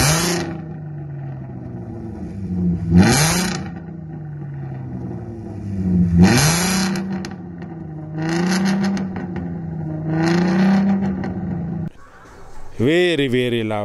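A loud VR6 car exhaust revs repeatedly, roaring up and dropping back several times in bursts close by.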